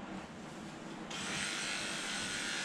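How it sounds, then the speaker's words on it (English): An Oster 3000i electric clipper fitted with a 30 wide blade and a half-inch snap-on comb trims a dog's coat, giving a steady close buzz that grows louder and brighter about a second in and holds. "I am now going to finish clipping the opposite side with my 30 wide blade"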